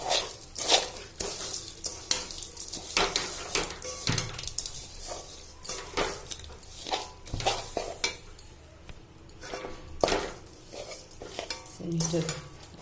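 Sugar being dry-fried in a pan for mango pickle, stirred with a utensil in repeated scraping strokes and metallic knocks against the pan, with a faint sizzle underneath.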